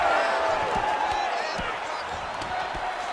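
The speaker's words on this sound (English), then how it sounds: "you hear the crowd react every time they come together" Arena crowd in the UFC 4 fighting game roaring and cheering continuously as Khabib and Song Yadong trade strikes, with dull thuds of impacts popping through the steady crowd noise.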